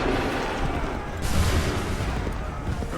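Musket fire in Assassin's Creed 3, a dense rumbling volley swelling to a louder burst midway over a continuous battle din, with no clear talking.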